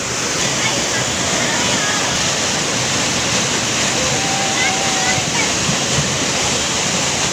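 Flash flood water rushing: a loud, unbroken roar of churning water, close and constant, with voices faintly present beneath it.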